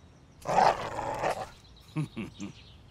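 A loud, rough dog bark or growl, followed by three quick, sharp barks in a row, close by.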